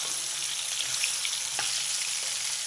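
Bitter gourd pieces frying in hot oil give a steady, even sizzle at moderate level, with a few faint clicks and pops and no one talking.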